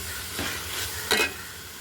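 A spoon stirs chicken curry with onions and tomatoes in a hot pan, with a soft background sizzle and two brief scraping swishes, the second sharper and louder. No one speaks.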